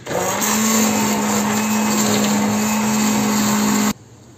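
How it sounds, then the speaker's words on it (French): A blender purées vegetable soup in one loud, steady whirring run with a constant motor tone, stopping abruptly just before the end. "ma soupe, elle est bien mixée"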